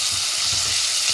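Curry leaves hit hot cooking oil and set off a loud, steady sizzle, a dense crackling hiss that fills the whole short moment, close by and with no voices.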